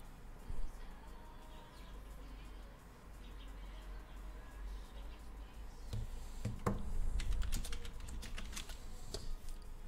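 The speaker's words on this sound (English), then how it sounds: "I'm sorry if you're hearing that typing too loud." Quiet computer keyboard typing: soft, irregular key clicks close by, growing busier in the second half, with faint bird chirps in the background.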